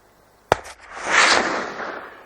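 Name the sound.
rifle gunshot while hunting deer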